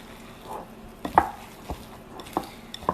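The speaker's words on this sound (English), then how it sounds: "Mix this up." Breakfast bar ingredients being stirred together in a bowl, with a few sharp scrapes and knocks of a utensil against the bowl's side, spaced irregularly over a quiet background.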